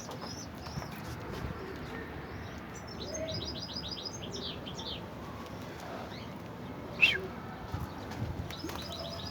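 A young homing pigeon at a Turkish racing-pigeon training session gives a series of soft, high chirps and short repeated peeps over a quiet background, with one louder sharp burst near the end and faint talk at times.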